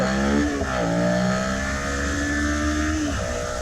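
Suzuki SV650 motorcycle accelerating hard under the rider, engine loud and close with rising revs climbing through gear changes, wind and road noise underneath and no talk.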